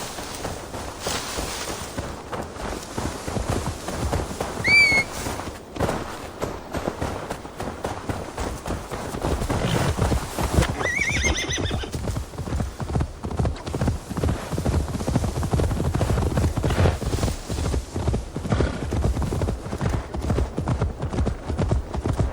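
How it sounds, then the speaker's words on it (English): Hooves clip-clop steadily from a horse being led and ridden in Assassin's Creed Valhalla, with brief whinnies early on and a rhythmic gallop building in the second half, loud and close. "Now to deliver Magni his horse."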